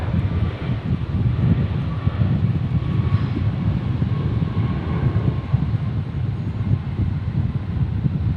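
A Virgin Boeing 737 Max 8 airliner roars at Brisbane airport, a loud, steady broadband engine rumble that holds evenly throughout with no voices.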